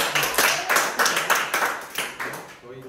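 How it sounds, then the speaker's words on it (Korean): A small group at a speech club session claps in slow, rhythmic unison, about eight or nine distinct claps at a steady pace that fade toward the end. A faint voice can be heard underneath. "박수 한번 주시고요"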